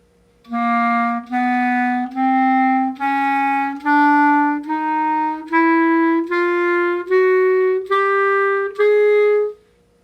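A woodwind plays a rising chromatic scale, about eleven separate sustained notes climbing step by step, each clear and evenly spaced, with no talking.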